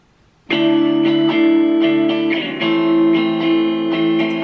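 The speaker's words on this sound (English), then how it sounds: "I wanted the rhythm guitar to have a light distortion tone to it, like this." Strummed electric guitar with a mildly overdriven, slightly gritty tone plays a steady rhythm of sustained chords, loud and upfront, with no voices.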